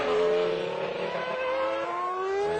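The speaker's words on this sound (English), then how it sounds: "It's a very harsh note on the McLaren, on the Mercedes engine, I should say." A Mercedes-engined McLaren Formula 1 car screams past at close range, its harsh high engine note sweeping down in pitch and then climbing again as it revs, with traction control chattering beneath.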